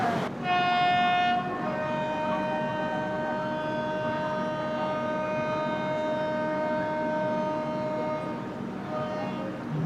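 The Trivandrum Veraval Express departing Rajkot station in Gujarat: a long, loud horn blast with steady harmonic tone holds for about eight seconds over the low rumble of the train, nearby on the platform.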